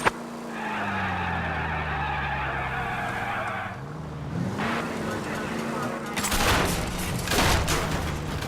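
A car in the video game L.A. Noire drives and skids, with a rising engine drone, drawn-out tire squeals and a rough scraping burst near the end, while someone talks over it.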